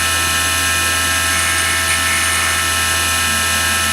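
Machine tool taking a light finish cut on a Bultaco brake bracket, a steady whirring, mechanical drone with a constant high tonal whine, loud and unbroken throughout with no talk.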